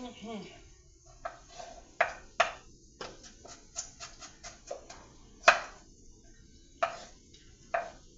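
Onions being chopped on a cutting board while preparing a sausage dish, heard as irregular knife thwacks and taps on wood, some sharp and close, spaced unevenly over quiet kitchen background.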